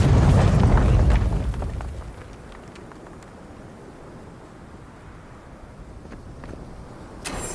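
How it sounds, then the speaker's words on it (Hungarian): A loud, deep explosion bursts in the fantasy role-playing video game Avowed, a roaring low blast that fades over a couple of seconds into a quiet rumbling ambience, with a small sharp sound near the end and no speech. "Elő kéne idézni valami robbanást."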